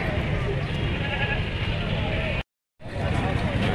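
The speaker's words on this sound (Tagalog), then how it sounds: "ang daming kambing" Goats bleating amid a crowded outdoor livestock trading scene, bleats mixed with steady chatter and background noise, interrupted by a brief silent gap near the end.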